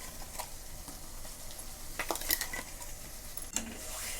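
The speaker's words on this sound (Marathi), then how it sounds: "तर आता ही वाटण छान असं तेलात कांदा टमाट्यासोबत आपल्याला तळून घ्यायचं आहे, चांगलं तेल सुटेपर्यंत।" Ground masala paste frying in oil with onion and tomato for a cauliflower curry, with soft continuous sizzle under scattered scraping and clinks of a spoon against the pan, one sharper clatter near the end.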